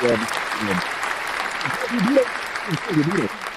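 A studio audience claps in a round of applause for a comedian at a comedy podcast taping, steady and fairly loud, with voices and whoops breaking through over it.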